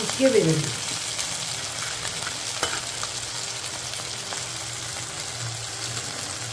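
Sweet boorulu fry in hot ghee, producing a steady, moderate bubbling sizzle, with a brief vocal sound at the very start.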